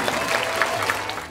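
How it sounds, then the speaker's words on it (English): Clapping from an audience at an Endangered Species show, dense, steady applause with a few sharper individual claps standing out, fairly loud and close, with a low murmur beneath. "let's give them all a round of applause"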